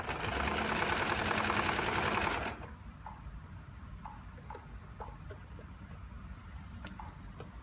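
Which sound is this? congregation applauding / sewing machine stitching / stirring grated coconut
sewing machine stitching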